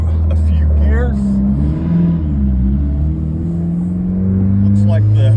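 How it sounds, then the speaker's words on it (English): Car accelerating through several gears during a FuelTech FT550 engine management test, the engine note rising, dropping at each shift, and climbing again, loud and close. "So let's do some testing. Let's get our log going. We'll row through a few gears."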